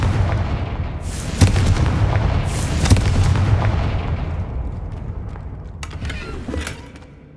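Confringo blasting curse in Hogwarts Legacy, a series of loud booming blasts with sharp cracks over a rumbling low roar that slowly fades, followed by a few fainter pops near the end.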